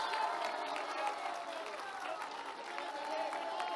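Crowd applause and cheering at a political rally in the State of Mexico, a dense, steady roar of many hands and voices that holds throughout without pause.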